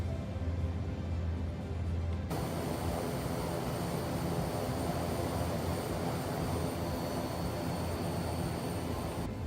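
Steady drone of propeller aircraft engines in a flight simulator game, a continuous broadband roar with a faint high whine, rising in intensity after the throttles are advanced, loud and alone without voices.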